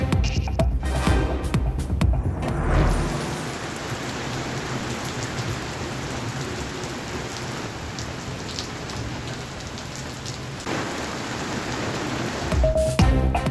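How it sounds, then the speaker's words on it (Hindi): Steady rain falls across Islamabad, a dense, continuous wash of drops hitting surfaces, loud and close throughout with no voices. "इस्लामाबाद के मुख्तलिफ हिस्सों में कहीं हल्की कहीं तेज बारिश"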